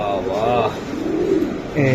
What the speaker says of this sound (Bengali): পিওএ ক্লাবের কবুতর দেখাই